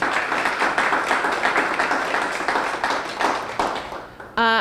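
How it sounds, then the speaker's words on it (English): Audience applause at a DC Action for Children champions event in a gallery, a dense steady wash of many hands clapping for several seconds, ending with a brief sharp tone. "So give her a big round of applause"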